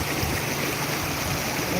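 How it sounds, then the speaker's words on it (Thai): Strong floodwater current rushing through a flooded area in Ang Thong, Thailand: a steady, dense broadband wash with no breaks, close and continuous. "น้ำไหลมาเนี่ยดูครับ กระแสไหลมาแรงมากโอ้โห"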